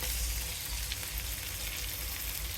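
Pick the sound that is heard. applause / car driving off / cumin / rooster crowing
cumin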